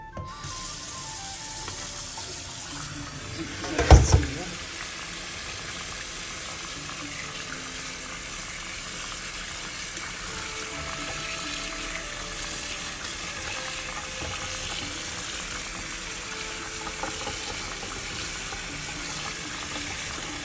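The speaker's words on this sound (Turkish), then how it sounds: "Şimdi bunları bol suda yıkamam lazım." Salted cucumbers and cabbage are washed in plenty of water, giving a steady close hiss of running water with splashing and handling throughout and one brief louder knock near the start.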